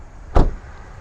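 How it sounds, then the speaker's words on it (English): The door of a 2023 Mitsubishi Mirage Ralliart shuts once with a single solid, close thump over faint background hum. "the door does sound really nice when it closes"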